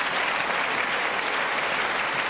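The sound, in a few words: applause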